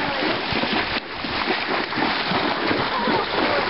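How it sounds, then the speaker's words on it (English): A vehicle rides through chest-deep river floodwater, making a steady, loud rush of splashing and churning water that barely lets up. "We're gonna go through the water."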